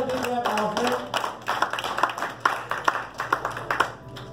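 Clapping from a church congregation, a run of sharp, fairly regular claps that grows more distinct toward the end, layered over faint background voices.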